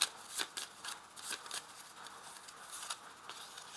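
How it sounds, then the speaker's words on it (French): Tarot cards rustle and slide as they are handled and laid down on a surface, a series of soft, close, papery flicks and shuffles in a quiet room. "Alors, j'ajoute une des dernières cartes."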